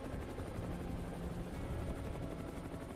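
A helicopter in Grand Theft Auto V during a tornado in Los Santos, a constant dense rotor roar at moderate level that fills the whole stretch without talk.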